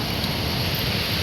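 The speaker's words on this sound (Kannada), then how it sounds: "ಗಾಳಿ ಮಾತ್ರ ಸಖತ್ತಾಗಿ ಬೀಸ್ತೈತೆ." Strong wind blows outdoors in Hubballi, a steady, loud, broadband roar that buffets the microphone throughout, with no voices or other distinct sounds.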